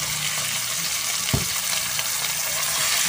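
Onion and beef tendon (kikil) frying in a pan, a steady dense sizzle with a brief clatter from a stir partway through.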